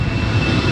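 Jet airliner operating for KLM taking off from the Polderbaan runway at Amsterdam Schiphol, a loud, steady broadband engine roar with a thin high whine, heard alone.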